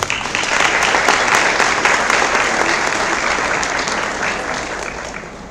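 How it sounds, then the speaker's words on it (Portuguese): An audience at a Mother's Day tribute ceremony gives sustained applause, many hands clapping loudly and steadily, the sound slowly easing toward the end. "Uma salva de palmas."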